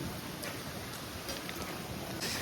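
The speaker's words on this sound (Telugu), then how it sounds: "గాలి చూడు ఎట్లా వస్తుందో" Steady, rushing wind buffets the microphone with a constant broadband roar, briefly gusting stronger near the end.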